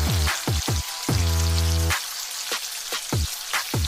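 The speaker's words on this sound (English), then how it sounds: "Fried anchovies until crispy." Anchovies fry in hot oil until crispy, giving a loud close hiss. Sharp crackles and pops recur at irregular intervals, with a sustained tonal hum partway through.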